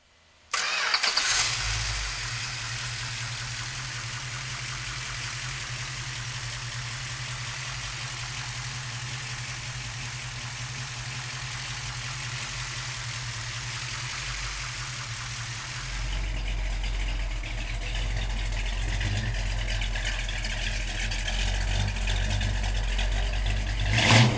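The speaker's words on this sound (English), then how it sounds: "So come on up and we'll fire this fresh rebuild up." A freshly rebuilt 440 V8 in a 1968 Plymouth GTX cranks briefly, fires and settles into a loud, rumbling idle, with the engine note deepening and growing heavier partway through.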